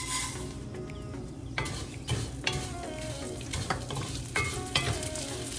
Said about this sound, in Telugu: దీన్ని కూడా పాడవకుండా ఉండడానికి అలాగా కలుపుతూనే ఉంటాం